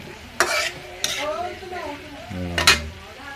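A spatula scrapes and stirs pork and pansit bihon ingredients seasoned with MSG in a pan, with three sharp scraping strokes over a soft sizzle and a faint voice in the background.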